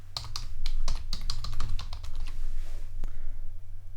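Fingers type on a computer keyboard entering a search query, a quick, close run of crisp key clicks that thins out and stops after a final tap, no speech.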